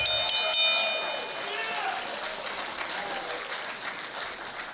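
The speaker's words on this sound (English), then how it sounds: "Would you please give yourself a warm round of applause for being here?" A crowd at a boxing hall of fame ceremony claps warmly, a steady wash of applause at moderate distance, with a few whistles and voices near the start.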